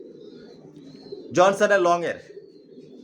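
A single short coo from a racing pigeon chick, clear and close, rising out of a quiet background with a faint low hum; a voice speaks briefly.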